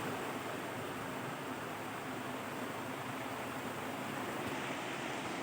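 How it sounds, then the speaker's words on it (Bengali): A constant roaring rush of wind blowing outdoors under a cloudy sky, steady and full throughout with no pauses or voices. "এই দেখো বাতাস হচ্ছে এখন বাইরে"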